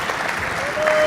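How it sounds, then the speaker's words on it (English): A live-stage audience breaks into steady, dense applause, loud and close, building slightly toward the end with no voices on top. "Round of applause for Douglas and Pangburn Philosophy for putting this on."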